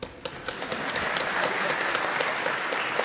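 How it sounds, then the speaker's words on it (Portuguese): Concert audience applause at a performance, a dense, close burst of clapping that builds and holds steady, with no talk over it. "Aplausos para a Luz"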